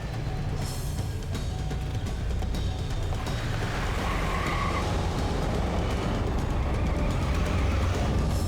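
A car driven off in a French-dubbed telenovela scene, a steady engine roar with tires hissing and skidding on the road, loud and continuous throughout, no voices over it.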